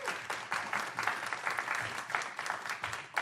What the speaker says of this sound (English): let's give her a round of applause for bringing you out tonight